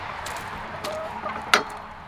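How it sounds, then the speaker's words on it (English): Hens clucking softly in a backyard chicken coop beside a shop, a scattered low murmur of clucks with one brief louder squawk partway through, fairly close and without talk. "So this back here is the chicken area."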